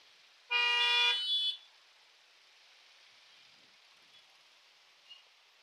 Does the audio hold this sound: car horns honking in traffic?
yes